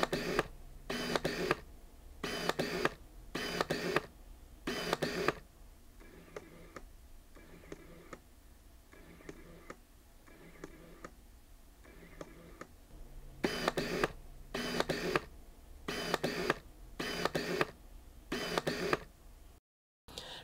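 Autofocus motors of Nikon 50mm f/1.8G and f/1.8D lenses cycling repeatedly, heard close up as bursts of buzzy whirring and ticking, some sets louder and harsher and others softer, in a regular back-and-forth rhythm with no talking.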